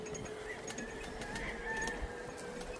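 Farm brood chickens clucking softly against a steady background hum, with scattered short calls from several birds and no talking.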